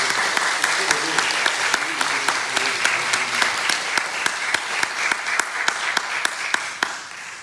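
Church congregation clapping in a steady, fairly quick rhythm of sharp individual claps over a soft background wash, with a voice speaking faintly beneath in the sanctuary.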